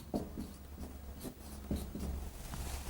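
Marker or chalk writing on a board during an equation solution in a chemistry lesson, with intermittent scratchy strokes and taps over a low steady room hum, no talk.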